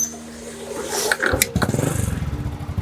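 A worn-out old motorcycle engine catches and starts after being push-started, sputtering into a close, loud, rapid idle putter after a few scraping, coughing bursts.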